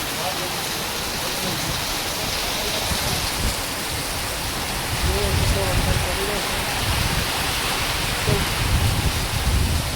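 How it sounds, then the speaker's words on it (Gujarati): Heavy monsoon rain pours steadily in Mudetha, Gujarat, a dense continuous hiss of falling water with a few heavier surges in the second half and no voices over it. "તો વરસાદ આવી ગયો છે."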